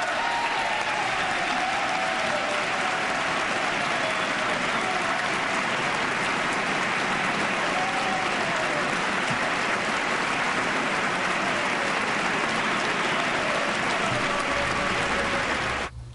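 Democratic lawmakers in a legislative chamber break into thundering applause and rise to their feet, a dense, sustained roar of clapping heard at a distance that carries on unbroken for over fifteen seconds.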